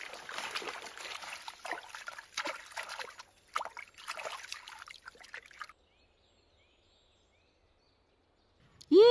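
Water splashing and trickling as someone washes at an outdoor well, with close irregular sloshes for several seconds, then near silence and a brief sharp sound at the end.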